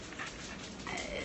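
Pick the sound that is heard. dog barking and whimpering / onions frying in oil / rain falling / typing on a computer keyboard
dog barking and whimpering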